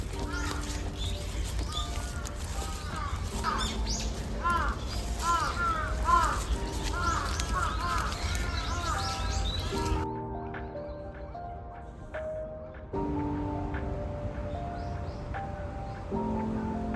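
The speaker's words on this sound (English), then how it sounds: "Also, the birds sound really cool." Crows and other birds call repeatedly in a Tokyo garden, their caws and chirps rising over a steady outdoor ambience, thinning out into sparser calls later on.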